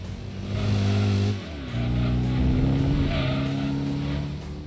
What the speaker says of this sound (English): now the Cougar sounds less like a cat and more like a bee